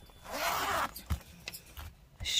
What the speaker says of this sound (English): Oh, broken zipper.